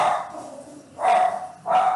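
A dog barks indoors in three loud, separate bursts, each sustained and slightly harsh, with short pauses between them and no other sounds around.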